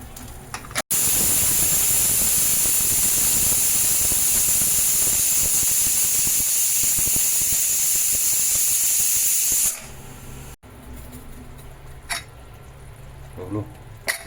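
A pressure cooker vents a loud, continuous hiss of steam while Malvani-style makul (squid) curry cooks. The hiss cuts off abruptly, leaving a quieter room with light handling noises and a voice.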